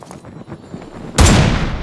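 Gunfire in a battle-royale video game match around Pochinki, a short loud burst erupting suddenly after quieter background action, close and dominant.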